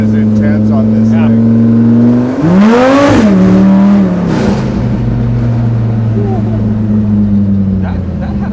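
A strongly cammed car engine idles with a loud, lumpy rhythm, then is blipped once for a sharp rev that rises and falls before settling back into the choppy idle, with a person talking nearby.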